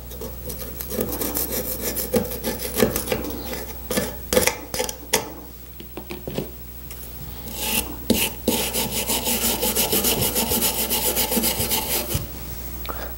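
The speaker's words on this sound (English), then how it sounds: "then I'll scrape away the old adhesive" Old adhesive being scraped off a Denfeld motorcycle seat, a loud rasping scrape repeated in rapid strokes with brief pauses, close up and with no talking.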